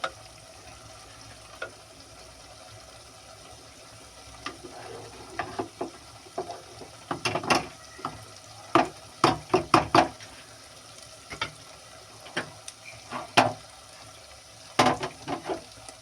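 Lentils being stirred into duck meat in a hot, sizzling pan, with a steady low fry underneath and irregular scraping, clinking spoon strokes that cluster in bursts, close and clear, with no talking.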